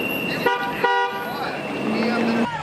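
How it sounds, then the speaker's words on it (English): Passing drivers honk car horns in support of striking UPS workers at a roadside rally in Utah. Two short toots come first, then a longer, lower horn blast over traffic noise. "Drivers passing by, honking in support."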